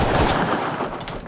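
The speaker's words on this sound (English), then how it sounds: "They're gunshots, so they're behind me." A rapid burst of gunfire in the Roblox game Wild West crackles loudly for just over a second, shots blurring into a dense, continuous rattle.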